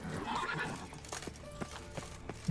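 Roach the horse in The Witcher 3 whinnies and snorts amid clip-clopping hooves, a short faint game sound with no talk over it.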